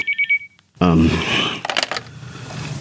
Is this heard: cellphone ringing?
yes